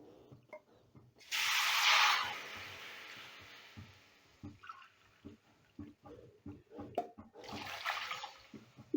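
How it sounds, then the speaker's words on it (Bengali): Thickened milk poured into a pan of butter and spices gives a short gushing splash and sizzle, then quieter bubbling with light clinks and a voice talking, and a second brief splash near the end. "এবারে এই পর্যায়ে আমি দিয়ে দিচ্ছি দু কাপ দুধ"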